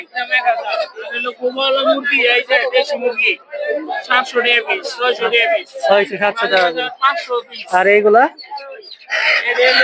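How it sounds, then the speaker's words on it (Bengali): Chickens and roosters at the busy Gausia Golakandail village poultry market in Bangladesh cluck and squawk in dense, overlapping bursts, heard up close amid loud talk from people nearby. "প্রচুর পরিমাণে মোরগ মুরগি পাওয়া যায় হাটে"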